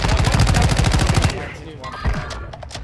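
Rapid gunfire in the battle royale game Warzone, a fast burst of close, loud shots for over a second, then scattered quieter shots and game sounds.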